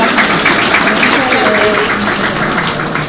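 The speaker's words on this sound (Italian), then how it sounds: "alla prima ingegnera sarda l'applauso di tutti" An audience at a women's event in Nuoro, Sardinia, gives a loud, sustained round of applause, dense and close, with faint voices and a brief tonal murmur mixed in beneath the clapping.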